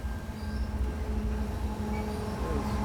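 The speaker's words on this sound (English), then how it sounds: "Another freight train." Freight train rolling past with a steady low rumble and sustained wheel hum, a faint high squeal running through, continuous and fairly close with no voices.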